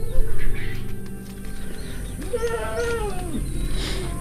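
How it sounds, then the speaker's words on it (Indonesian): Several goats bleat in a wooden livestock shed at a forest farm, their wavering calls rising mid-clip over a low background rumble, fairly close and layered with one another. "udah terdengar suara kambing di dalam ruangan ataupun saung ini ya"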